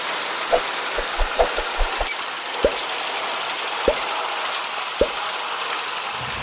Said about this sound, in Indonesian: Sepertinya lokomotif Kyosan Kogyo nomor 3.